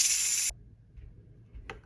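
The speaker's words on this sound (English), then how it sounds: "So I can turn that off now and let the pressure out, the steam." Steam pressure vented from an electric pressure cooker after cooking chicken and meat bone broth: a loud steady hiss that cuts off abruptly after half a second, followed by quiet room tone and a short soft puff.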